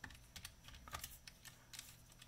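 Quick bursts of keystrokes on a computer keyboard as a Linux install command is entered, faint and close with uneven clicking rhythm.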